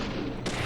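A single booming gunshot from the video game Deadly Premonition, one short loud blast with a quick tail, alone without talk.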